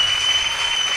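Comedy show audience bursting into loud, dense applause and cheering, a brief, continuous wash of clapping heard close and full.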